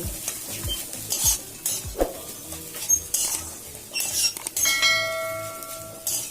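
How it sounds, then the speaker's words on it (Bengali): A spatula scrapes and stirs a spiced egg and snake gourd fry around a pan, with irregular metallic clinks and scrapes over a soft sizzle of frying, close up. "গরম মশলা গুঁড়োটাকে নাড়াচাড়া করে মিশিয়ে নিলেই ডিম দিয়ে কুচি ভাজা একদম রেডি"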